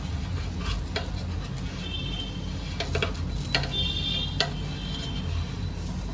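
An uttapam cooks on a hot pan with a continuous close sizzle, and sharp scraping and tapping sounds from a utensil stand out at intervals.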